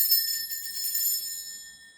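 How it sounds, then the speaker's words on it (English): A single bell rung for space cleansing rings out bright and high, its clear tone fading away over about two seconds with nothing else heard. "I'm going to be ringing the bell."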